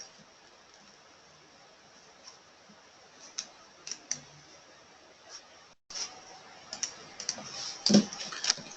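Typing on a computer keyboard, quiet irregular key clicks that grow busier and louder in the second half, with a few mouse-like clicks mixed in and no talking.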